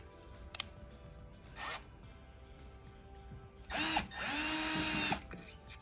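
A screwdriver drives panel screws back into a circulation pump, with short buzzy whirring runs, one brief and then a longer burst, among small clicks and handling noise.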